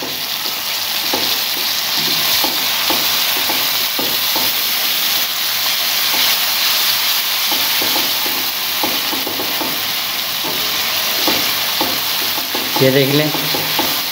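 Chana dal with tomatoes roasting in a pan, giving a loud continuous sizzle and hiss with frequent stirring scrapes. A brief voice speaks near the end.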